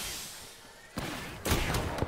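Gunfire in the battle royale game Apex Legends, the player under attack: after a quiet stretch come sharp bursts of shots, the first hit alone, then a denser volley of several close rounds.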